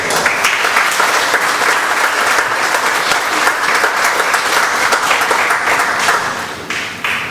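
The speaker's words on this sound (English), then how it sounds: "I think it deserves a big round of applause." Loud, sustained applause from a large audience at an Indigenous participatory film festival, dense clapping filling the room evenly for several seconds before tapering off slightly at the end.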